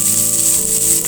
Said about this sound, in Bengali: আমি তেল দিয়েছি, বাদামটা একটু নাড়াচাড়া করে নিব।